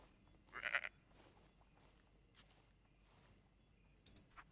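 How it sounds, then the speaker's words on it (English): Sheep bleating in the video game Book of Travels, one short faint bleat near the start over a quiet outdoor ambience with crickets, then only soft scattered noises. "We can give some love to the sheep."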